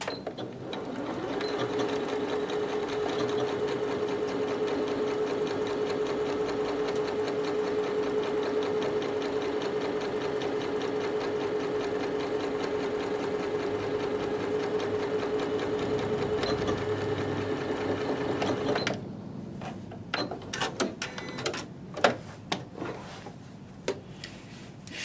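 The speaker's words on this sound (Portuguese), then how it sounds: "A gente sempre começa uma costura dando retrocesso e quando termina também." A domestic sewing machine runs a seam with backstitching at the start and finish, a close, steady mechanical whir of stitching for about eighteen seconds, followed by scattered clicks and handling sounds as the fabric is adjusted.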